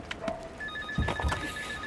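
A telephone rings with a repeating electronic tone, close and moderately loud, over soft background movement and thumps in an indoor police-drama scene.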